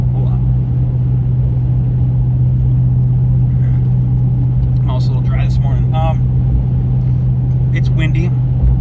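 A Ram TRX pickup cruises at 80 mph on a windy freeway, a loud steady engine and road drone heard from inside the cab, with brief voices or radio sounds breaking in midway.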